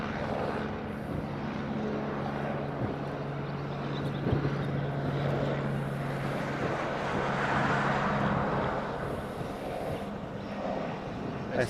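A United airliner coming in to land in Hawaii, a steady distant jet engine roar with a low hum that swells gently and holds throughout, no talk over it.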